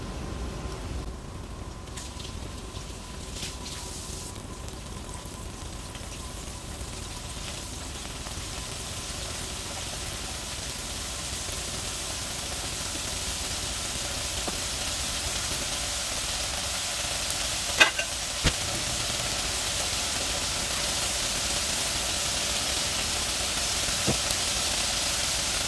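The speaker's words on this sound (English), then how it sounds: "While I'm waiting on that first batch of shrimp to fry" Shrimp cook in a Presto countertop deep fryer, giving a steady, soft bubbling hiss of hot oil that runs evenly throughout, with a couple of faint clicks near the end.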